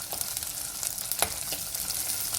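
Small shallots sauté in hot oil, giving a continuous close sizzle and crackle with a few scraping stirs.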